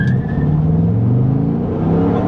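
A 2004 Pontiac GTO under hard acceleration, its engine roaring loud and steady from inside the cabin with a rising drone throughout, no talking.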